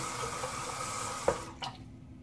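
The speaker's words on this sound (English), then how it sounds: "And rinse the dried lather away that was built up just so you can see." Tap water runs steadily over a shaving brush and bowl, rinsing away dried lather from a soft, cream-like shaving soap, with a brief splash and clatter near the end as the flow stops.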